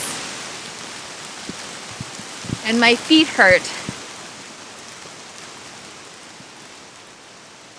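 Steady hiss of rain falling all around, with a few scattered drop taps and a brief spoken remark partway through.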